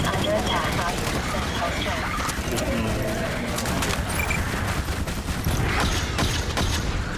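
A VR shooter game's battle: a grenade blast amid rapid bursts of gunfire, dense overlapping cracks and thuds filling the whole stretch, with faint voice-like sounds mixed in.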